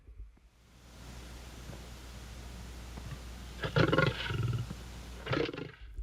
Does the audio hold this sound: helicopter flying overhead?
no